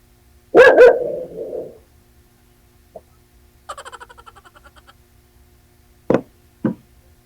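A dog barks indoors at someone it thinks is outside: a loud near bark, a short rapid burst of smaller yaps, then two more sharp barks, separated by quiet gaps with a faint knock.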